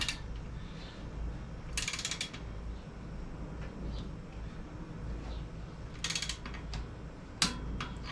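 A torque wrench tightens a bolt on a Haro 1.2 Steel Reserve dirt jumper bike, giving a few short bursts of ratcheting clicks spread over a low, steady background hum, fairly faint and with no talk.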